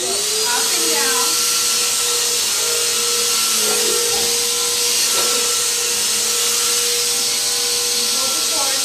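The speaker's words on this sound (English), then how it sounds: "So, like vacuuming is really easy." A vacuum cleaner runs steadily and loudly throughout with a continuous high-pitched motor whine and airflow roar, its tone shifting slightly as it is pushed up and down.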